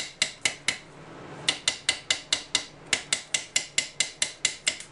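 Hammer striking a drilled SFIC lock core to knock out its pins: a close, sharp metallic whack repeated at a steady rhythm, about a dozen and a half blows with one short pause, no voices.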